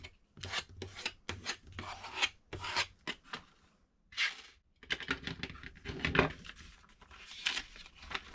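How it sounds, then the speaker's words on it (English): A sheet of paper folded in half for a junk journal, heard as close, soft rustling and rubbing strokes as the crease is pressed down, with brief pauses between passes and no speech. "I'm just going to go ahead and fold it in half."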